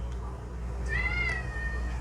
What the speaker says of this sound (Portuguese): Agora os gatos estão brigando em cima do guarda-roupa.